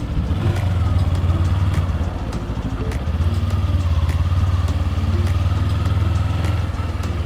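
A 2024 Kawasaki Ninja 7 Hybrid motorcycle pulls away hard in boost mode, its engine a steady, loud, close drone that holds and rises slightly with throttle throughout, with no talking.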